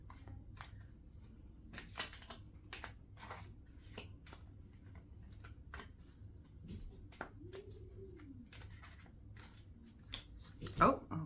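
Prompt cards shuffled by hand give soft, quick riffling clicks and taps, faint and close, with a louder flurry near the end.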